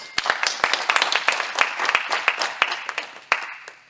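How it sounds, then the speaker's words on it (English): Audience applause at an interfaith unity conference, a scattered patter of hand claps at moderate level with sharper individual claps standing out, sustained for several seconds. "Please give him a round of applause."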